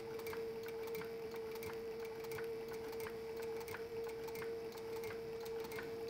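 Sewing machine stitching through leather for a simple mouse pad, a steady mechanical whir with faint regular ticks from the needle, running continuously at moderate level without talk.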